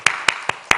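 A few sharp hand claps in a church lecture setting, four distinct beats spaced unevenly, close and moderately loud with no talk between them.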